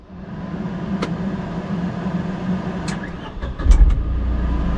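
Tata Nano, giving trouble after rain, idles with a steady low hum, then clicks and clunks as it is switched off and cranked again, ending in a louder low rumble as it restarts, close up with no talk.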